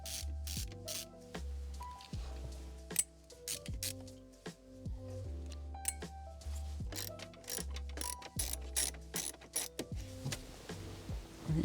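A driver unscrewing T20 screws from a Mercedes E-Class W212 dashboard, a quiet run of repeated ratcheting clicks in short bursts with brief pauses, close and alone.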